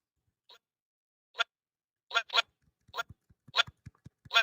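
A honking toy noisemaker sounds about seven times, short goose-like honks in an irregular, quickening sequence, close and loud against silence.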